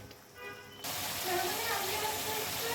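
Spices, chili and salt cooked down in a pan, with a loud, steady sizzle that starts abruptly partway through and keeps going evenly to the end.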